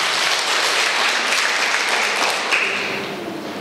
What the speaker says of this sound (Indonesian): Berikan tepuk tangan bagi Tuhan kita,